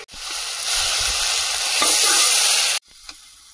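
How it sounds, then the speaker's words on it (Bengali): Potatoes stirred into a gravy for a Bengali pati fish curry, a loud frying sizzle that rises as they hit the pan and then cuts off abruptly, leaving a quieter hiss with one clink. "এবার আলুটা দিয়ে দেবো, দিয়ে আরো একটু নেড়ে চেড়ে নিয়ে জল দেবো"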